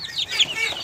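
Hungry chicks in a village yard chirp and cluck steadily at feeding time, a busy cluster of high peeps close by with no talk.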